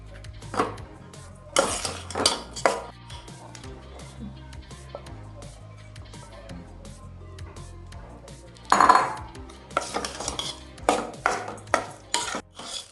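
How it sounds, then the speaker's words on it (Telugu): Ground chana dal filling is stirred in a pan, with sharp metallic spoon clinks and scrapes in scattered bursts over a quiet low hum, close by and with no voices. "ఇప్పుడు గ్రైండ్ చేసుకున్న శనగపప్పుని వేసేసుకుని బాగా కలుపుకోవాలి"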